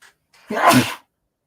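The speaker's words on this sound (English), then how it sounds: "Another sneeze coming." A single sharp human sneeze, close and fairly loud, preceded by a brief faint intake of breath, then silence.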